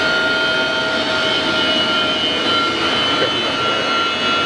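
A Monarch 10EE toolroom lathe runs at 4,000 RPM, giving a steady, loud, high-pitched whine and hum that holds constant throughout with no pauses.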